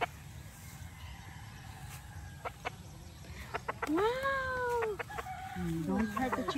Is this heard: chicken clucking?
yes